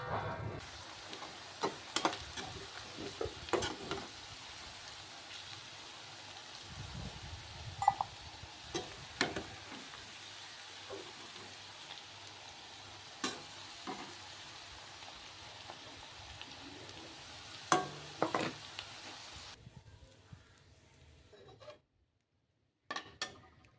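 Ivy gourd pieces stirred in hot oil in a pan for an Andhra-style sesame fry, a steady sizzle broken by scraping, clattering spatula strokes, with no voices, ending in near silence.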